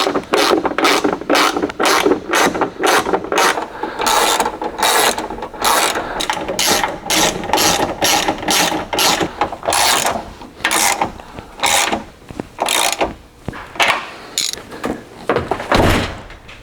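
Rapid ratchet clicking in repeated bursts, close and loud, as bolts on a Ford Super Duty tow mirror are tightened, with brief pauses between runs of clicks.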